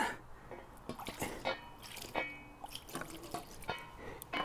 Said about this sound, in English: Now I'm gonna rinse this off because this uh, dish soap is not all that great for pipes.